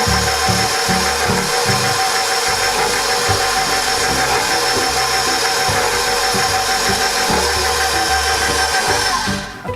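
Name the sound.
mixer blending banana bread batter with nuts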